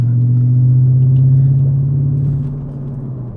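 An Audi RS5 with its muffler deleted idles with a deep, steady droning rumble close by, holding level before easing down slightly near the end, with no talk over it.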